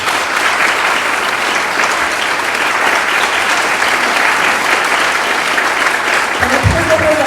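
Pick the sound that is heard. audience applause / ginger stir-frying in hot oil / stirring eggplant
audience applause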